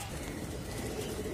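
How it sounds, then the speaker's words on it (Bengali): Pigeons in an outdoor loft coo softly and continuously, with a low, muffled rumble under a steady background hiss. "বাইরের দাফড়িতে জোড়া দিছিলাম, এক জোড়া কবুতর, এটার মধ্যে একটা বাচ্চা ফুটছে।"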